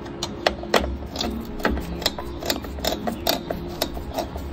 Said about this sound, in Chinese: 你看这里有一个螺丝， 要怎么拆除？ 就是你逆时钟